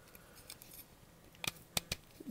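A Transformers Robots in Disguise Triple Threat toy figure's ratcheting knee joints click as they are worked, giving three or four sharp, close plastic clicks in the second half over light handling noise.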